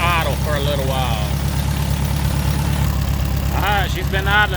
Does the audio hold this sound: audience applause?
no